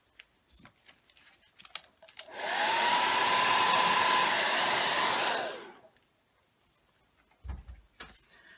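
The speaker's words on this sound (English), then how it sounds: "Once again, back to the drying." A hair dryer blows steadily for about three seconds to dry paint on a rust-effect finish, ramping up and winding down, with quiet clicks and taps before and after.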